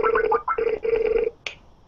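A Skype call rings through computer speakers, a run of warbling electronic tone bursts with brief gaps between them, followed by a short higher chirp and then quiet.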